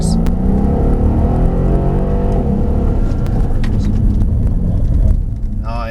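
A Mercedes-AMG SL63 accelerates hard under throttle on a race track, its engine roar loud and close and rising steadily in pitch for several seconds, with tire and wind rush beneath and no talk.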